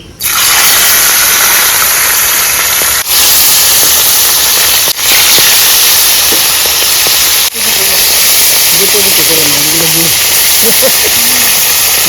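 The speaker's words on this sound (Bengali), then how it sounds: "তেলটা আমার গরম হয়ে গেছে আমি একটা একটা করে মাছগুলো দিয়ে দিচ্ছি" Bata fish dropped one by one into hot oil in a wok, a loud, constant roaring sizzle broken by brief dips, with a voice talking faintly underneath toward the end.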